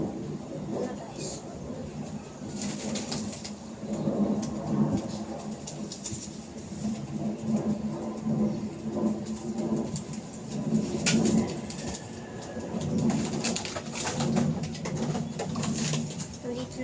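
Pigeons coo in low, repeated murmuring calls throughout, close by and under ongoing chatter, with faint background rumble and occasional higher bird notes.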